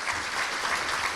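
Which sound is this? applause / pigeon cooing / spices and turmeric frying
applause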